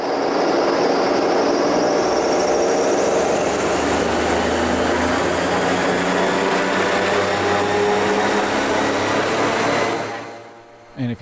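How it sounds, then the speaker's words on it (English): The engine of the Raptor prototype aircraft runs up to 3800 RPM, a loud, sustained roar that holds steady for about ten seconds before it abruptly drops away. "where I bring it up to 3800 RPM on the engine"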